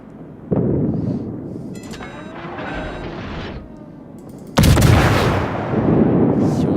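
Naval guns firing in World of Warships: two heavy booming salvos, one near the start and a louder one partway through, each followed by rumbling, crackling decay over a continuous battle din.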